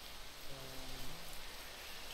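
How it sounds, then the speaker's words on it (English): Steady hissing rain in the modded Minecraft game, a soft continuous wash of noise with a brief low tonal hum in the middle and no voices. "I don't know what rain does in Minecraft other than increases fishing chances"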